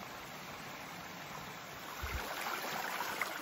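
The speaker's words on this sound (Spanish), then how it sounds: "Aquí está el arroyo." A stream near Novellana on the Camino del Norte in Asturias flows with a steady, broadband rush of water, close and continuous, with no voices.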